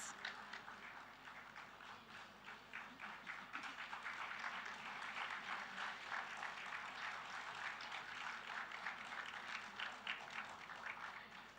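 An audience at a school Founders' Day ceremony applauds a student being honoured, with sustained crowd clapping that swells after the opening seconds and stays steady and somewhat distant.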